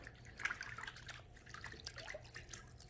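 Warm tap water runs over hands as they are rinsed at a sink. It makes a faint, quiet trickle with scattered drips.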